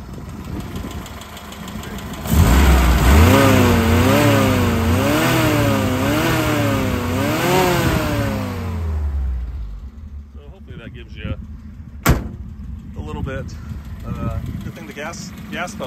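The engine of a 1990 Nissan Sunny ute, a Japanese import, revs up and down several times in quick rhythmic swells close by, then drops back to a quiet idle while a person talks.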